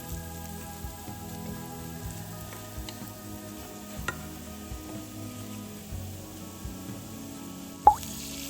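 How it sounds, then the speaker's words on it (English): Five spice powder, cumin and chili flakes fry in oil over a low flame for crispy tofu with garlic sauce, giving a soft, steady sizzle with faint scattered pops and one sharp clink near the end. "Fry over a small fire until aromatic."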